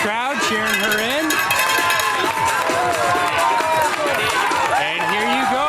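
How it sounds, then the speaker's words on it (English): Crowd cheering a girl runner in as she nears the finish of a middle school state championship cross-country race in New Hampshire, steady dense cheers and shouts with a cowbell clanking throughout. "Good sized crowd cheering her in"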